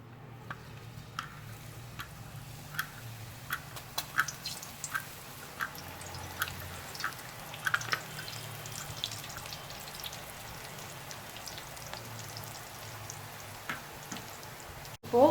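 Ribbon pakoda dough is pressed into hot oil and fries with a gentle steady bubbling, broken by scattered crisp pops and light drips, with a louder clatter right at the end.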